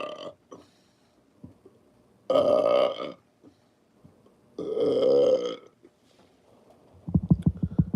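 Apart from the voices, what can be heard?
burping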